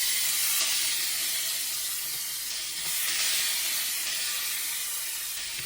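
Minced garlic sautés in a pan for a Filipino breakfast of corned beef and potatoes, a continuous bright hiss and sizzle, close and even, with slight surges, no talking.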